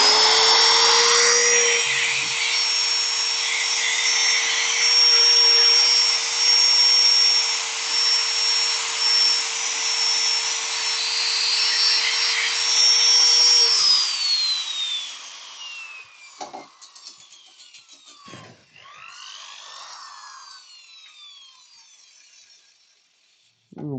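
A power sander whines at high pitch while sanding a Sri Lanka rosewood incense holder, running steadily and loudly for about fifteen seconds before spinning down, followed by quieter scattered scraping and handling sounds.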